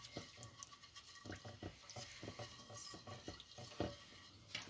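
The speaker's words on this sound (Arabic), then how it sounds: "نخلطها مزيان." A spice mixture is mixed with a little water, giving faint, rhythmic wet scraping and stirring strokes against a bowl, close and quiet with no talk.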